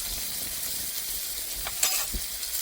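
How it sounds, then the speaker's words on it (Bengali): Chopped tomatoes fry in a pan over already-fried garlic and ginger, giving off a steady hissing sizzle with a brief scrape of stirring partway through. "এইবার দিয়ে দেব কুচি করা টমেটোগুলো। আবারও কিছুক্ষণ ভেজে নেব।"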